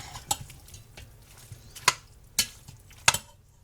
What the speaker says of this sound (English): Stir this all up.